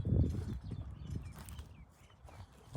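A horse for sale, walked on a lead at a market, clip-clops with a string of close hoof strikes, loudest at the start and easing off across the short stretch, with low rumbling background noise.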